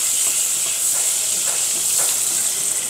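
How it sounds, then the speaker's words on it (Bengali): Butter melting and sizzling in a hot pan, ready for garlic paste, makes a steady, loud, close hiss that holds without a break, with no voices over it. "প্রথমে আগে একটু রসুন বাটা ভেজে নেব।"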